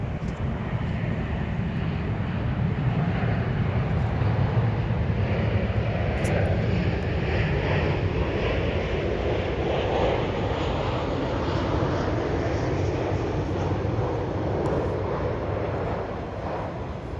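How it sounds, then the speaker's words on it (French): A fixed-wing airplane passes overhead outdoors, a continuous broad engine roar that holds steady for many seconds, distant but loud, then slowly fades at the end, with no talking. "il y a un avion qui passe"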